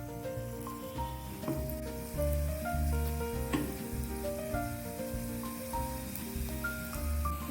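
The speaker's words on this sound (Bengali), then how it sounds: "এরকম ছোট ছোট করে ভেজে নেব।" Small gram-flour fig fritters frying in hot oil, a continuous crackling sizzle like fine rain, heard alongside background music.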